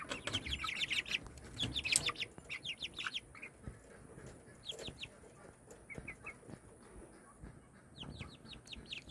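Sapphire Gem chicks, young pullets, peeping and chirping in rapid high bursts, clustered at first, thinning out, then returning near the end, close and fairly faint, with occasional soft rustling.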